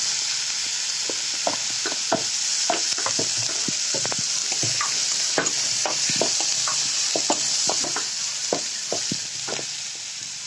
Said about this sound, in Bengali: অনিয়ন দিয়ে দিচ্ছি